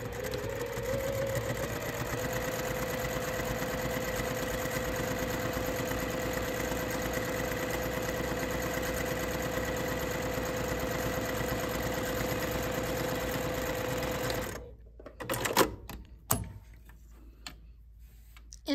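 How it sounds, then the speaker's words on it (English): A Juki sewing machine top stitching fabric with a compensating foot runs steadily with a fast, even mechanical ticking hum, close and continuous, before stopping near the end with a few quiet handling clicks. "Beautiful top stitching using that compensating foot."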